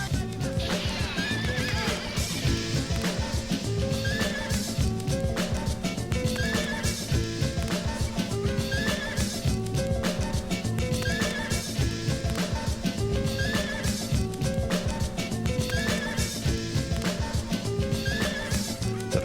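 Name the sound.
horse neighing in a music sample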